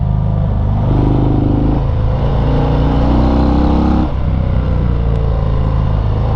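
A 2019 Harley-Davidson FXDR 114 motorcycle engine pulls hard out of uphill S-curves, a loud continuous throbbing drone with rising harmonics, the pitch dipping briefly near the end before it carries on, close and steady with no talk.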